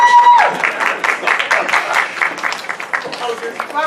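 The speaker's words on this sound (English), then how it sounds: "They're having a lot of clapping" An audience at the IFC 2018 closing ceremonies claps in a sustained, ragged round of applause, fairly close, with voices talking over it and a brief beep at the start.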